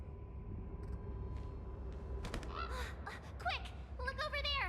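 In Honkai: Star Rail, a bird gives a run of quick caws and honking squawks, clustered in the second half over a low ambient hum.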